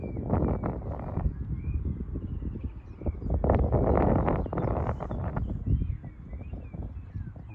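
Strong gusty wind buffets the microphone at an open field where a large kite is flown, a rough roaring rumble that swells and fades in bursts, loudest in the middle.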